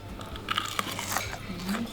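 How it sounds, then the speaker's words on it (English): Crisp crunching bites into a breaded Austrian schnitzel, a few sharp crackles close to the mic, fairly quiet with a faint voice near the end. "It's crunchy, very crispy."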